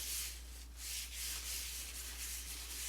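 Rubber-gloved hands rubbing seasoning into meat, a soft close rhythmic rubbing and swishing that repeats in strokes over a low steady hum.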